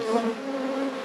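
Honey bees buzz steadily at a hive in a productive apiary, a close, continuous drone of many insects with a slightly wavering pitch and no voices.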